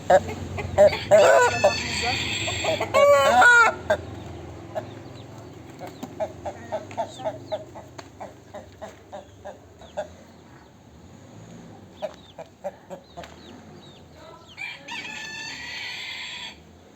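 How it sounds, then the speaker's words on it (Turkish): A large, heavy rooster about a year and a half old crows loudly nearby, with clucking chickens in between and someone speaking at times over the birds. "Büyük bir horoz. Kilolu bir horoz."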